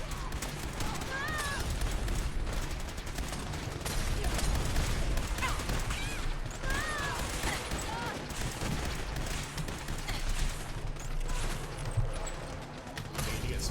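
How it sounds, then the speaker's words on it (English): Gunfire in Fallout 4 with the Fallout Equestria mod, a steady stream of shots and bursts coming from several directions at some distance, layered with mechanical clanks, while a player talks over it. "What's shooting at me here?"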